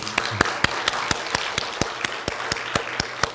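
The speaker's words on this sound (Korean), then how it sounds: "축하하는 마음으로 우리 박수해 주셨으면 좋겠어요" A church congregation at a Sunday worship service applauding a young couple in congratulation; the sound is sparse, steady claps at roughly even intervals over a soft background, with no one speaking.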